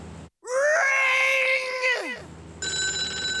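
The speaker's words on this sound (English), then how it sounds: "That phone is gonna ring." A telephone rings in the Sam & Max video game, one long loud warbling bell ring after a brief pause, then a shorter electronic tone follows, close and clear with nothing else over it.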